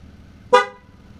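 A single short toot from a Chevrolet Malibu horn, sounding nearby and clear against a quiet background, as the car signals during a tire pressure monitor sensor relearn.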